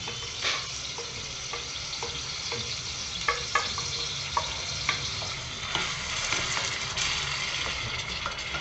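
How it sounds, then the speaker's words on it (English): Grated tomato and onion cook in a pan with a steady sizzle and frying hiss, broken by scattered scrapes and clicks of stirring, close and moderately loud with no talk. "now into this I am going to add this grated tomato"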